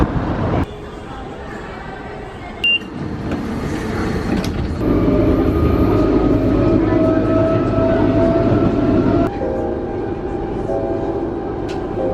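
A train at a railway station in Portugal, its steady low rumble and rolling rail noise filling the scene up close, with a few sharp clanks and shifts in tone as it moves.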